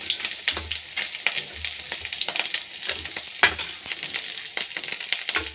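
Garlic, onion and green chillies fry in hot oil, a close crackling sizzle with repeated stirring strokes and scraping thuds at an uneven rhythm.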